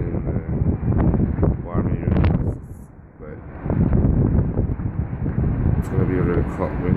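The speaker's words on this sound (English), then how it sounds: "It's very cloudy and windy today." Strong wind buffets the microphone on a cloudy day in Dubai, a loud, low rumble that swells and eases, while a person talks over it.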